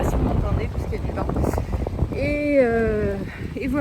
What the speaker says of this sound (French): je sais pas si vous m'entendez parce qu'il y a du vent